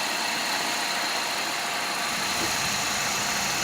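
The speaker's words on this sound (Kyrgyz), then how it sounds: "Бул мотору." A used Nexia car's engine idling with the hood open, a steady even hum with smooth mechanical vibration, close and constant from start to finish, with no voices.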